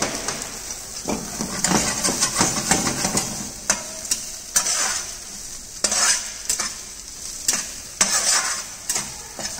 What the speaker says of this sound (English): Add green peas and lightly toss it.